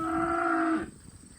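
A calf bawls from a pen on a farm, one loud drawn-out moo lasting under a second before fading into quiet.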